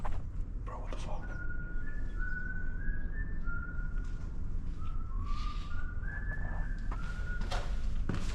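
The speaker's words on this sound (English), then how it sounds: "There's some whistling." A person whistling a wandering tune in short melodic phrases, fairly distant, over steady outdoor background noise.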